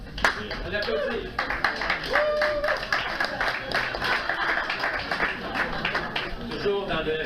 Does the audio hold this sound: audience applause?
yes